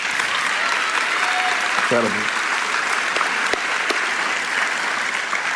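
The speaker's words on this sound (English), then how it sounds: "And thanks for clapping," Church congregation applauding during a sermon, a dense, steady wash of clapping filling the room throughout, with a brief spoken remark over it.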